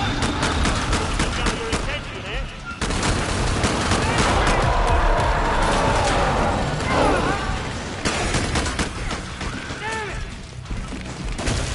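Rapid gunfire from a Killing Floor 2 match, bursts of automatic shots crackling loud and close with brief pauses between volleys, with players talking over the action.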